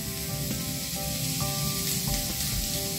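Oil with green chillies and curry leaves sizzles steadily in a hot pan while cauliflower and egg are cooked, a dense continuous frying hiss with faint crackles, close and loud.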